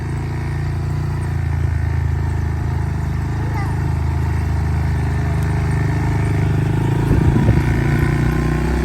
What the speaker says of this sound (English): yay, dirt bike